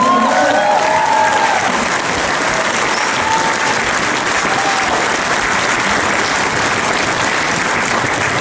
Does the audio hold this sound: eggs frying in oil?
no